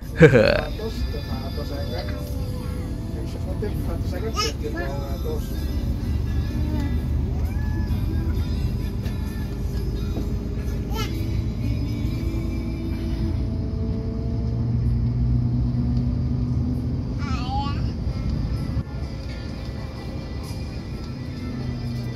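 Inside a Blue Line coach bus travelling from Jakarta toward Solo and approaching a toll gate, a steady low engine and road rumble drones throughout, with a voice talking over it.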